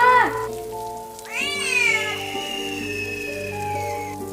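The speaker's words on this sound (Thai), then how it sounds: "นี่มันไอแมวระยำนั่น ทำไม ตัวมันถึงได้ใหญ่ขนาดนี้" A cartoonish cat in the mobile game Sakura School Simulator lets out a loud, drawn-out meow that rises and bends, over a steady tonal backdrop of game music.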